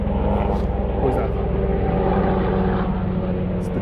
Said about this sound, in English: It's the German government helicopter.